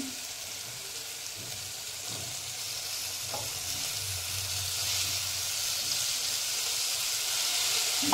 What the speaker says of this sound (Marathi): गॅस थोडासा मोठा करून चांगले परतून घ्यायचे वाटाणे